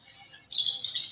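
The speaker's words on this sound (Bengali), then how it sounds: "যেখানে ছোট ছোট পাখি বা বিভিন্ন পাখিগুলো খুব কিচিরমিচির শব্দ করতেছে" A small bird in a garden beside a pond gives a short burst of bright, high chirps, close and clear over a quiet background.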